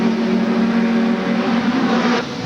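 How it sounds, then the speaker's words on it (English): Touring race cars at the 1992 Macau Guia Race, a loud continuous engine drone with a steady pitched tone over the whole stretch, easing slightly near the end. "he's been well overtaken by Schneider and Winklehock"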